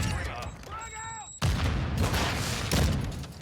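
Sniper rifle fire in the video game Call of Duty: Modern Warfare 2, with sharp booming shots cutting in over game sounds and someone talking, followed by rolling bursts of gunfire.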